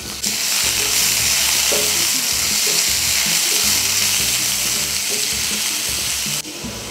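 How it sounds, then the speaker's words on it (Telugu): Large onion pieces fry in hot oil in a pan, producing a loud, continuous sizzle with occasional spatula knocks underneath, steady throughout before dipping slightly at the very end. "ఆయిల్ వేడెక్కిన తర్వాత ఒక పెద్ద ఉల్లిపాయని ముక్కలా కట్ చేసుకొని వేసుకోవాలి"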